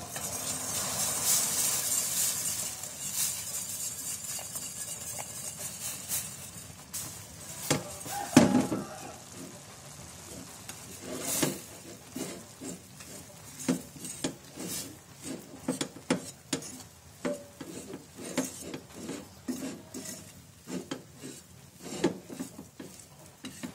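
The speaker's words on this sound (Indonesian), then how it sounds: "setelah mendidih seperti ini, kita akan masukkan terigu" Flour is stirred into a boiling mixture in a pot on the stove, with a steady bubbling, sizzling bed and frequent spoon scrapes and clinks against the pot, close and fairly loud, with no talking.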